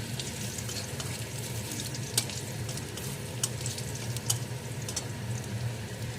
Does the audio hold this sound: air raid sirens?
no